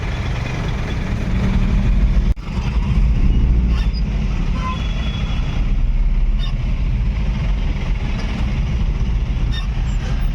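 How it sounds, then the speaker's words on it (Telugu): Vehicles idle in a dense traffic jam at Suchitra Junction, a loud continuous low engine rumble with steady mixed traffic noise throughout and no talking. "ఫుల్ ట్రాఫిక్ జామ్ ఉంది."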